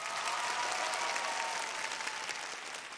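Studio audience at a Vietnamese television talent show applauding a group, steady dense clapping from many hands that tapers slightly toward the end, with no voice over it.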